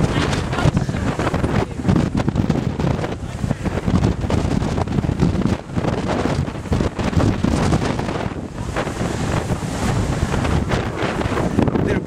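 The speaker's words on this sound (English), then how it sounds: "if you can hear me with this wind," Outdoors by a bay at the 2012 Pride March in Victoria, strong gusts buffet the microphone with a constant loud roar and rumble that covers everything else.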